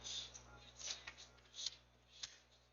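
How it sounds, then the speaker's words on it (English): Tarot cards being shuffled by hand, several soft riffling bursts spaced about half a second apart, close and quiet over a faint steady hum. "I'm just gonna shuffle and see what cards come out"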